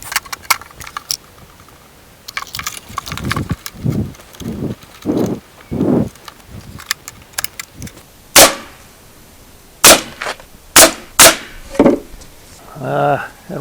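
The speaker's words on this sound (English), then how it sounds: "We'll put one nail in it and flip it and see what it looks like." Pneumatic nail gun driving nails into wood while building a chicken coop, firing several sharp, loud cracks in an irregular rhythm amid duller knocks and handling noise, with people talking in between.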